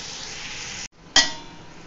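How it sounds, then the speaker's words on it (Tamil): Onions fry in a pan for a 2 kg biryani, giving a steady close sizzle that is briefly interrupted, then resumes with a sharp utensil clink. "வெங்காயம் வந்து நல்லா கோல்டன் ப்ரௌன் ஆகணும், அப்போதான் பிரியாணி நல்லா இருக்கும்."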